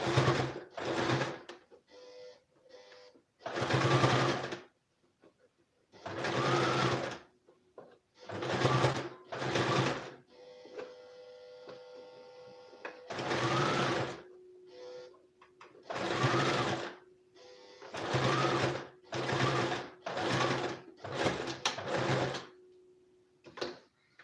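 A sewing machine runs in repeated bursts of rapid stitching through thick fabric, each lasting a second or two, separated by brief pauses and a steady lower hum.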